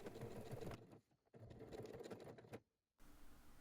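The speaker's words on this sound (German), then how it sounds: "mit einer kurzen Naht wird das Teil nun festgenäht" A sewing machine runs in two quick bursts, stitching a short seam on fabric for a small bag, with brief pauses between runs; close and steady, with no talk.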